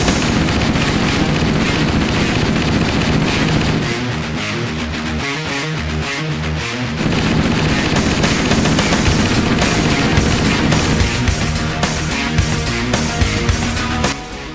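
MA5B assault rifle from Halo: Combat Evolved firing in long sustained automatic bursts, loud and dense with rapid booming shots, a brief lighter stretch in the middle before full firing resumes.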